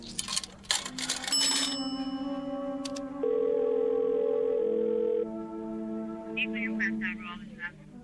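A telephone dial tone in a radio drama plays as a steady, moderately loud hum for about two seconds, bracketed by quieter studio sounds and brief clatter, with no talk over it.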